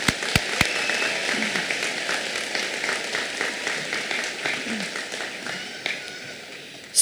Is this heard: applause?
yes